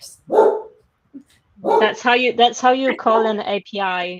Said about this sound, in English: Yes, that is my dog.